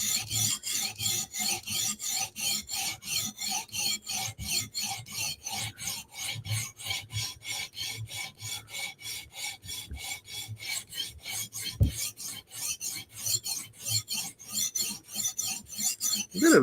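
A knife edge is being sharpened in steady, rhythmic rasping strokes, dozens of evenly spaced passes of the blade against the stone, close up and moderately loud with no talk.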